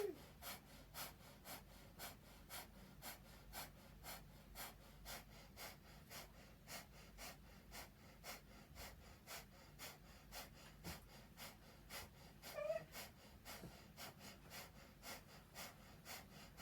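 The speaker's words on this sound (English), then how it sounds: "So you're inhaling through the nose, exhaling through the nose at a nice, fast, steady pace." Breath of fire breathing: fast, steady inhales and exhales through the nose, sounding as a long run of evenly spaced, sharp puffs, close and fairly quiet, with no talking.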